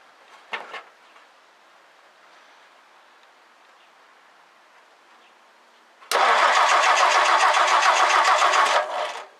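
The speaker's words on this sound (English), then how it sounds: "I'm going to crank the engine a little bit" A brief click, then quiet, followed by a 1964 Ford F100 engine cranking over loudly with a rapid rhythmic churn for about three seconds before stopping.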